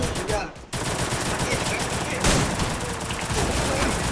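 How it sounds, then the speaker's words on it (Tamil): Shotgun gunfire during a Diwali celebration comes as dense, loud bursts of overlapping blasts that fill the clip almost without a break. A brief dip occurs near the start. "ஷார்ட் கன் வச்சு விளையாடுறாங்க."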